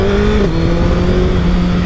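A 2024 Suzuki Hayabusa four-cylinder motorcycle accelerates with a loud, steady engine drone, its pitch dropping once at a gear change and then climbing again, heard close with heavy wind noise.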